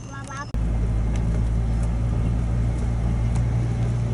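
A U-Haul truck pulls away. After a brief voice at the start, a steady low engine rumble and road drone fill the rest, close and constant.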